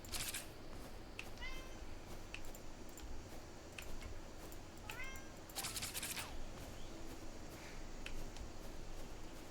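A house cat meows several times, short rising calls spaced a few seconds apart, faint and mid-distance over a steady hiss with scattered ticking sounds.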